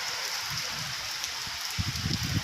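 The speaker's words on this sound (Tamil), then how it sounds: "எவ்வளோ மழை பாருங்கள். செம மழை" Heavy rain pours down in Karaikudi, a dense, continuous hiss of falling drops with a few heavier patters near the end, close and steady, with no voices.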